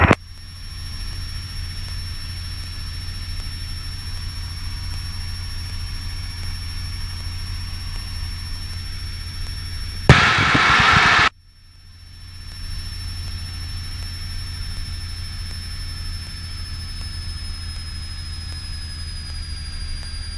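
A helicopter drones steadily from inside the cabin with a constant engine hum and whine, broken once by a short burst of loud radio static as the pilot reports climbing through 3,000 feet.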